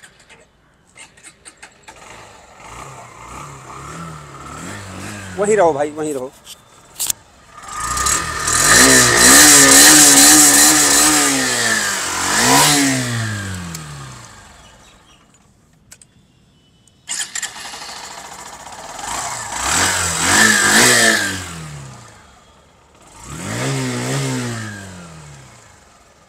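A small 100cc Honda Shine motorcycle engine cranks and sputters to life, then revs up and down in several bursts, with a brief shout from a man near the start.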